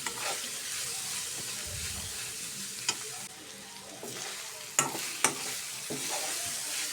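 Spring onion stalks and prawns are stirred in a frying pan, giving a steady soft sizzle with a few sharp utensil scrapes and clicks near the end, close and alone with no talk.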